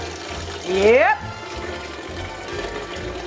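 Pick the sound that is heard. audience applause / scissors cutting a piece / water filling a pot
water filling a pot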